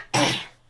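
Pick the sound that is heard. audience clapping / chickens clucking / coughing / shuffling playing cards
coughing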